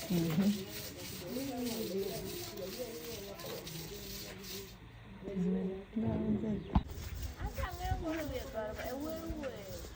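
A smooth stone being rubbed over a freshly plastered cement kitchen surface in an African village, a soft repeated scraping and rubbing heard under close continuous talking.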